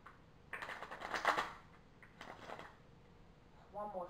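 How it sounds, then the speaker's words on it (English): Tarot cards are shuffled in a couple of short close riffling bursts, soft crisp flutters separated by a pause, followed by a brief bit of speech. "Let's give it one more shake."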